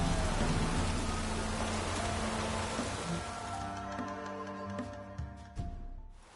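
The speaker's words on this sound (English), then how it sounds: "it's drizzling" Steady drizzling rain in The Witcher 3 on PS4, a dense continuous patter filling the scene with low tonal game ambience underneath, fading slightly toward the end.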